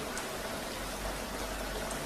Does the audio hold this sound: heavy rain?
yes